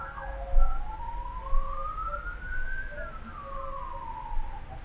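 An ambulance siren wails outside, its pitch sweeping up and then down in a long rise and fall over background street noise.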